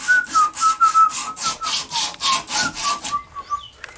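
Sandpaper rubs back and forth across a wood surface in a steady rhythm of about a dozen quick, close strokes, loud and rasping, with no talking.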